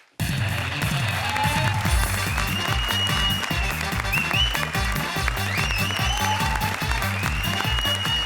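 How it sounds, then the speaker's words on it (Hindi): Studio audience applause rises at a televised comedy show after a performance, steady clapping layered over loud rhythmic music with a heavy beat. "जोरदार तालियां"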